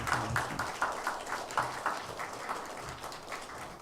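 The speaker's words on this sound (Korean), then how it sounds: "수고 많이 해주신 기획위원장님께 다시 한번 감사의 박수 하겠습니다." Church congregation applause at a Sunday worship service, a moderate patter of clapping that rises in several waves and slowly thins out, with no one speaking over it.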